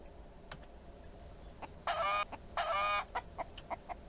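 Chickens cluck in Mist Survival, with scattered short clucks and two louder, drawn-out squawking calls that stand out clearly over a quiet background.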